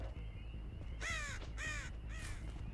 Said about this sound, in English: Send some crows over yonder.